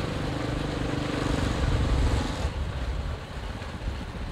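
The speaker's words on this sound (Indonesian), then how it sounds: "Jadi hasil rekamannya begini masih kedengar jelas walaupun anginnya banyak" Wind buffeting a Boya BY-MM1 shotgun microphone outdoors, a loud continuous low rumble and roar that eases slightly partway through, with no talk.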